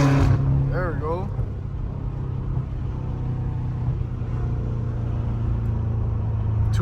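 A BMW M5 Competition with a catless exhaust gives a deep, steady, close rumble that holds throughout, with a voice talking over it near the start.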